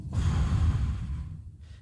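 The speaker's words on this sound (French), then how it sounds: "Une respiration." A person takes one deep, audible breath, a close, airy inhale-exhale that fades out within a couple of seconds.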